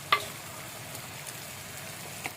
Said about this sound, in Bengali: পুরো কষানো হয়ে গেছে, তেলও ছেড়ে দিচ্ছে। এবার দিয়ে দেবো লাউটাকে।